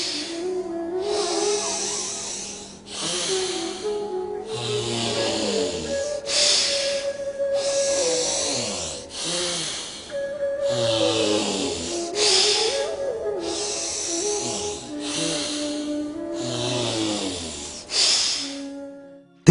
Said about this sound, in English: Close the left nostril and exhale through the right.